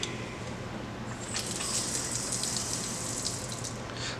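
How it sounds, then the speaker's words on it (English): Water bleeds from a test gauge on a Zurn 950XLT2 double check valve assembly, a steady close hissing spray and gush that rises after the first second and keeps running without pause. "I'm going to pressurize and bleed my gauge."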